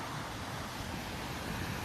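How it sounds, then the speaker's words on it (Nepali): The Langtang river rushes steadily in a snowy mountain valley, a dense, continuous roar of flowing water filling the scene, with no voices. "खोला बग्दैछ निरन्तर।"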